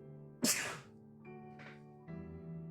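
A single sharp sneeze bursts out near the start over a quiet room with a low steady tone, followed by fainter noises.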